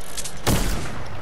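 Gunfire in a shooter video game, a single loud burst of shots erupting against steady background noise, with no talk.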